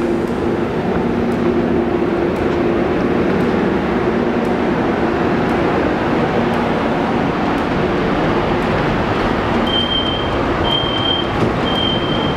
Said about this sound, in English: right now we're riding the train like very, very early in the morning on a weekend